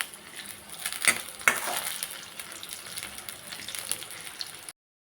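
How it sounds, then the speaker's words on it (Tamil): Bitter gourd (paavakkai) pieces fry in hot oil in a pan, a soft continuous sizzle broken by a couple of sharp clinks and scrapes as the pieces are stirred and turned. "இந்த மாதிரி எல்லாம் பொரித்து எடுத்துக்கிறேன்"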